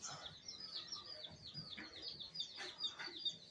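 Birds living in the ceiling of a United States post office chirp and tweet in quick repeated calls, faint and echoing indoors over low room noise.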